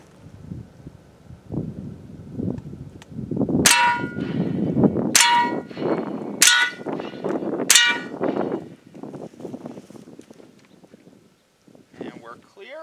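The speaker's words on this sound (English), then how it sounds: "I'm going to fire all four into the plate." Four gunshots fired at a steel strike plate, inexpensive bulletproof plate from Wish, sounding as four loud sharp metallic cracks with ringing clangs spaced about a second apart, amid wind noise and talking before and after.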